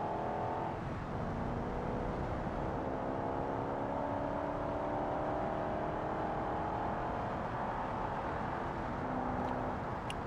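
A car engine swapped for a much heavier unit than the original 2.5 revs hard while racing in BeamNG.drive, a loud, steady drone with rising and falling engine tones held throughout.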